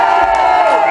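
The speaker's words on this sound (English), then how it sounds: "so a round of applause for Ronnie." A live concert crowd cheers loudly, a brief dense roar of voices and whoops.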